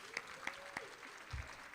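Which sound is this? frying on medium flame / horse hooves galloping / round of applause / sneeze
round of applause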